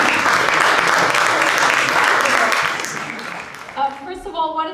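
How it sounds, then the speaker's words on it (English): Conference audience applauding a panel at a games event, a dense sustained wash of clapping that fades toward the end as a voice begins speaking. "Thank you guys. This is your applause."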